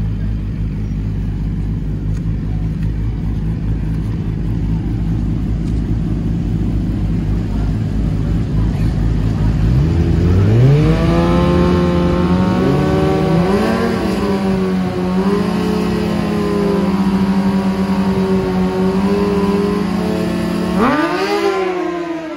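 Street bikes in a drag-style shootout, engines droning near then screaming up through rising, stepped revs as they launch and pull away, with a second sharp rev burst near the end; crowd noise or voices faintly underneath.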